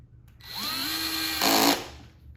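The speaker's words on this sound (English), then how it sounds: "when you go to put your screws in, you've got something to bite into, as opposed to trying to start fresh through that laminate backing" A power drill runs up to speed and drives a screw into the laminate backing of a Y-leg flip-top nesting table, whining steadily with a short louder burst as the screw seats, close and alone.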